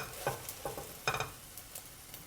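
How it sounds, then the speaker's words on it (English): Pork-filled egg dumplings browning in a frying pan, giving a steady low sizzle with several soft, rhythmic scraping taps as they are moved around. "And we'll just brown them a little bit."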